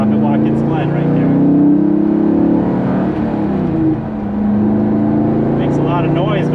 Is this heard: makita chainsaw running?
no